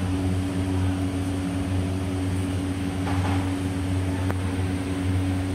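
An MP20280 drone motor on a 24S 300A ESC spins a 51 inch propeller on a test stand, producing a steady, loud droning hum with strong low tonal bands and no change in pitch.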